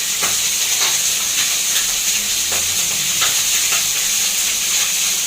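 Puti fish frying with onions in a pan, a steady loud sizzle and hiss with small crackles and occasional stirring scrapes throughout.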